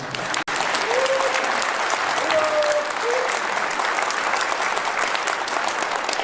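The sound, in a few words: applause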